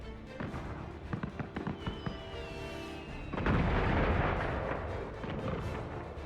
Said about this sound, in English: Why the fireworks show?